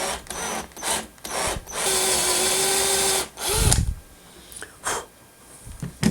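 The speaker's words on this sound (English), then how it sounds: "I need to drill a pretty big hole, 3/8 of an inch on this 1/2 inch dowel" A power drill bores a 3/8 inch hole into a 1/2 inch wooden dowel. It whines in several loud bursts separated by short pauses, with no talking.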